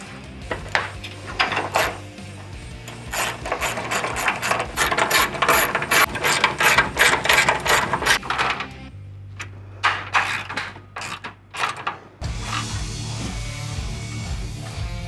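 Quick ratcheting clicks from a hand wrench tighten small 1/4 inch hood pin bolts on a fiberglass hood for a 92-96 Ford Bronco, running in dense bursts with brief pauses and then a final steady run of clicks, close up.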